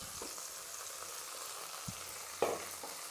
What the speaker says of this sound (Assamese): বিলাহীটো গলি যোৱালৈকে ভাজি থাকিব লাগিব।